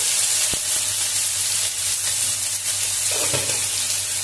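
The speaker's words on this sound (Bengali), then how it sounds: "দিয়ে এবারে একটু সেটা লাল লাল করে একটু ভেজে নেব" Salted potatoes sizzle and crackle in hot oil in a pan as they brown, with a sharp tap and some stirring scrapes near the start.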